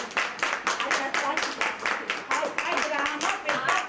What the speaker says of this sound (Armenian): դպրոցի մանկավարժները ծափահարում են իրենց վերընտրված տնօրենին